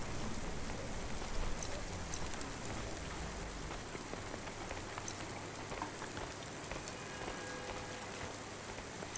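Steady rain pours down throughout a rainy street scene in the video game Cloudpunk, a constant close hiss of drops on surfaces with faint background hum and no talking.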